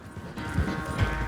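A horse gallops in Red Dead Redemption 2, quick hoofbeats thudding in a rapid rhythm over a faint background, brief and moderately quiet.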